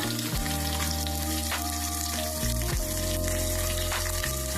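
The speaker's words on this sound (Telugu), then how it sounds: "ఇలా చిత్తగొట్టి చక్కగా వేగండి ఇలా వేసుకోవాలి" Tempering seeds, then cumin, sizzle steadily and loudly in hot oil for a mango peel pickle, a continuous close frying hiss with faint tonal hum beneath and no voices.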